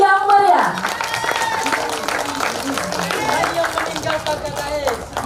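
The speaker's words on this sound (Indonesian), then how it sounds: "Beri tepuk tangan yang meriah." Crowd at a football cup awards ceremony in Makassar applauding the winners after an announcer's call, scattered clapping with a brief tonal sound at the start and voices talking over it.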